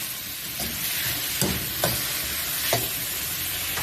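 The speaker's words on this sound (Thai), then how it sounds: "เริ่มหอมใส่เห็ด ไปผัดนิดนึงสูรสด้วยหอมนะครับ" Mushrooms stir-fry with shallots in a pan under a steady hissing sizzle, with three or four distinct scraping stirs cutting through.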